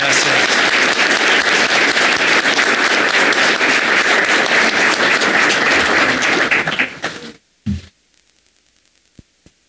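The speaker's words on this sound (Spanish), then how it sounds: "vamos a darle un fuerte aplauso" Conference audience gives sustained, loud applause from many hands for about seven seconds, then it cuts off abruptly into near silence, followed by a few faint taps.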